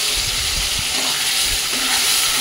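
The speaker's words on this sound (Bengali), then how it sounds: "চিংড়ি মাছের সাথে মশলাটা কিন্তু ভালো করে কষিয়ে নেবো।" Prawns frying with onion-garlic paste, chilli, cumin and turmeric, loud constant sizzling under scraping stirs that make low irregular knocks, with no voices.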